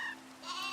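A sheep bleats in the Cobblemon Minecraft game, one short wavering bleat, close and fairly faint, with no one talking over it.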